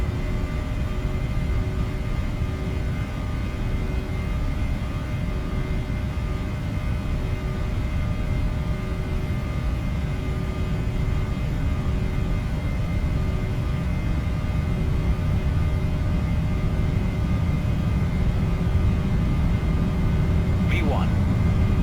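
PMDG 737-800 engines in the Prepar3D simulator hold takeoff thrust as a loud, constant low roar with a steady whine, with faint voices and a brief click near the end.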